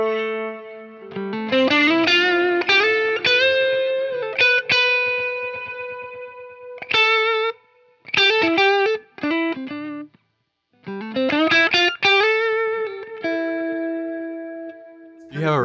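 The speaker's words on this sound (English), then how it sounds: "the way those echoes are then feathered into each other" Electric guitar notes and chords ring out through a Keeley HALO Andy Timmons Dual Echo pedal, layered echo repeats smearing and overlapping, with no reverb and a brief silence midway before playing resumes.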